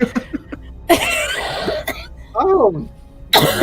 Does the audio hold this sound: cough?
yes